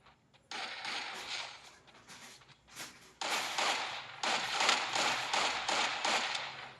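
Gunfire and explosive bursts in the mobile battle royale game Free Fire Max, with sharp cracks and rapid crackling volleys that build in intensity, loud and close, with no talking.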